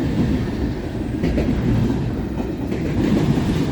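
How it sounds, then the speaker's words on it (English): A Norfolk Southern freight train hauling large 86- to 89-foot boxcars rolls past at Elkhart with a steady, heavy rumble and rhythmic wheel clatter, close and loud, with no voices. "I believe this is Norfolk Southern 310 because they typically carry those large 86/89 foot boxcars"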